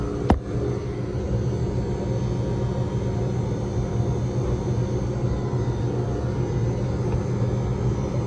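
An Electro Freeze GEN103 soft-serve freezer, both barrels failing to freeze, running with its beater spinning: a steady low mechanical rumble and hum that holds evenly, after a single sharp metallic click right at the start.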